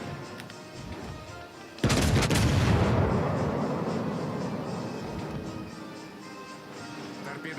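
A heavy naval gun salvo booms suddenly in World of Warships: Legends, a loud blast with a long rumbling roll and crackle that slowly fades under steady battle ambience.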